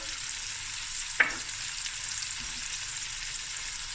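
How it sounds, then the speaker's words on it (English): Cumin and fennel seeds fry in a pan for a lamb shank akhni, giving a steady soft sizzle with one sharp clink of a spoon partway through. "I'm also going to add 2 teaspoons of cumin seeds, a tablespoon of fennel seeds"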